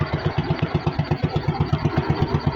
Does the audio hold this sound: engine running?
yes